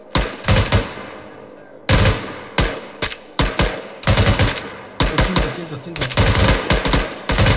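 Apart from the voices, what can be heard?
gunfire in a shooting contest, from video game Arma 3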